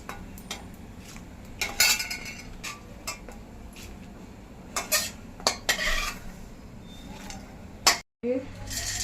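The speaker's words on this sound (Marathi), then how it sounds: "आता आपण आपली डाळ काढून घेऊया मस्त झाले भाजली" Roasted dal is scraped and scooped out of a pan with a metal spoon, making repeated close clinks and scrapes against the metal, with a brief cut near the end.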